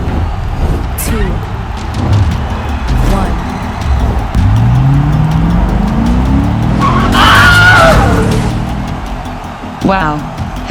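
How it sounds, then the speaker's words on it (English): Hot Wheels die-cast cars, a 2011 Corvette Grand Sport and a 69 Camaro Convertible, race down a double-lane curved track and crash, with quick rolling whirs and clattering impacts under an excited voice announcing the race. "Horrific crash by Snips Mahoney."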